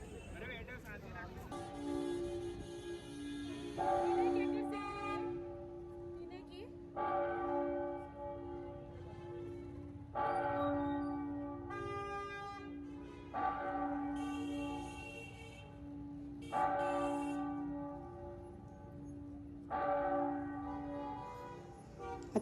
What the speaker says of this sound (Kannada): ಸುತ್ತೆಲ್ಲ ಇವಾಗ ನೋಡಿ 11 ಗಂಟೆ ಆಗುತ್ತೆ, ಬೆಲ್ ಬಾರಿಸುತ್ತೆ, ಕೇಳಿಸ್ಕೊಳ್ಳಿ ನೀವು